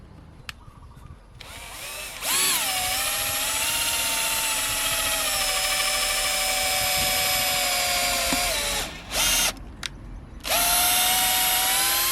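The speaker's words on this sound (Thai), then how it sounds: "ผมก็ต้องเจาะด้วย ดอกสว่านที่โตกว่านิดหนึ่งนะครับ ก็คือเป็นสว่าน 5 มิล" A power drill with a 5 mm bit whines loudly and steadily for several seconds while drilling a car tire, stops briefly, then starts again, with short pauses between bursts and no talking.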